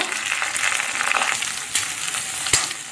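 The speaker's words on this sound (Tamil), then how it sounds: "எண்ணெய் காஞ்சோன்னு கடுகு பருப்பு போட்டு தாளிச்சுக்கோங்க கிழங்கையும் இப்போ சேர்த்துக்கோங்க" Cubes of elephant foot yam hit hot oil already crackling with mustard seeds and dal, a steady close sizzle with a couple of sharper pops and stirring scrapes, no voices.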